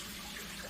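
Water pours out of a coffee maker's glass carafe into a sink, a brief, steady rushing splash heard close and moderately quiet, with no talking.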